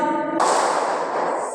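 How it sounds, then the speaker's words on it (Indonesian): A classroom of fourth-grade pupils standing and clapping once together as a spirit clap, giving a sudden sharp burst followed by a sustained wash of noise from the room. "Tepuk semangat satu kali."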